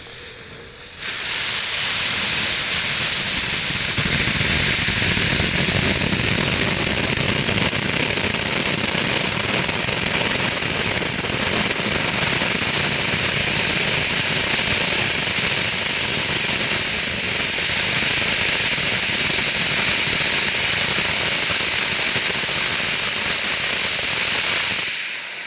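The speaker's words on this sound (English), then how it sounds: "Normally magnalium sizzles and pops and crackles as it burns." A magnalium metal spark gerb burns loudly and continuously for over twenty seconds, a dense roaring hiss full of rapid crackles and pops, close and steady from ignition almost to the end, with no voices.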